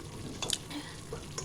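Masala frying in oil is stirred in a pan, giving faint sizzling with soft scraping strokes and a few light clinks of the spoon against the pan, quiet and close.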